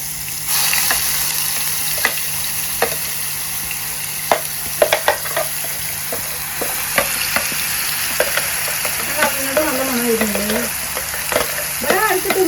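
Spiced masala paste for a crab dish sizzles and spits in hot oil, a steady broadband fry with scattered pops and clicks of stirring throughout, close and fairly loud, no talk.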